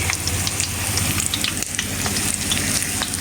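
Pangas fish fries in hot oil with a loud, steady sizzle and dense crackling spatter that holds constant throughout, with no voices.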